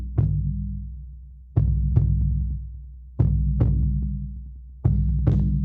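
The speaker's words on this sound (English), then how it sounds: "we'll start with the heartbeat rhythm as we discussed" A deep drum beats a heartbeat rhythm, four double thumps spaced evenly about every second and a half, each with a low resonant boom decaying under a steady hum, with no voices.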